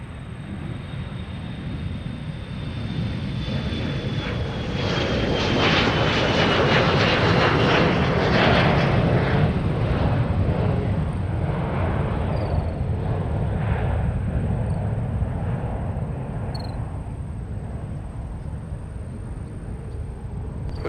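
Aircraft noise at Minneapolis–St. Paul airport: a broad engine roar builds, peaks in the middle and slowly fades, with a steady whine over it and no voices.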